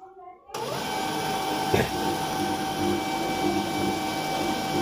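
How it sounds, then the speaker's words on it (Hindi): A Canon MF3010 laser printer is switched on at home while running off an inverter: its steady electrical hum and whine start abruptly and keep going, with a brief mechanical clunk partway through, heard close up. "अब हम इस प्रिंटर को करेंगे ऑन। तो यहाँ से हम स्विच को ऑन कर रहे हैं।"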